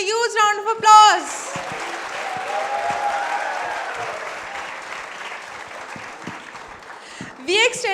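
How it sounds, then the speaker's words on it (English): Audience at a student talk breaks into sustained applause after a brief spoken line, a broad even wash of clapping that slowly fades before a voice returns at the end. "Please give a huge round of applause."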